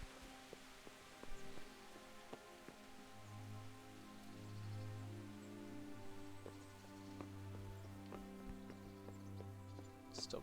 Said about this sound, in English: Stopped raining.